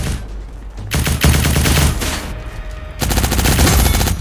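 Rapid automatic gunfire in the video game Cyber Hunter, loud and continuous bursts with a short pause midway before the firing resumes, no talking.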